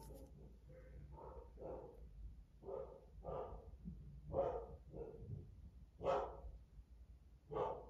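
Dogs barking indoors in a series of about a dozen muffled woofs at irregular intervals, somewhat distant and moderately loud, with no talk.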